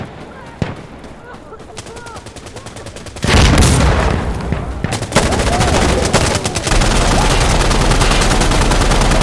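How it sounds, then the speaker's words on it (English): Grenade blast amid gunfire in Insurgency Sandstorm: scattered rifle shots, then a sudden loud explosion followed by dense, continuous fire and rumbling battle noise, with voices shouting over it. "Throwing grenade!"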